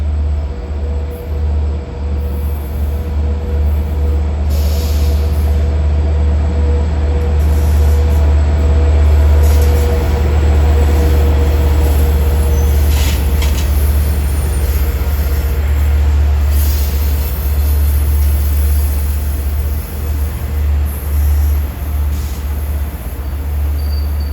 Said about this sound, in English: Approaching at 8:41 is train 510 en route from Jamaica to Oyster Bay.